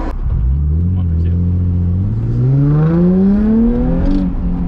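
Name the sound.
Nissan 350Z accelerating fully onto the interstate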